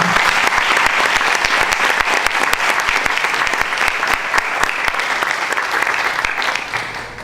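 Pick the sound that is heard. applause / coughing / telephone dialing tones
applause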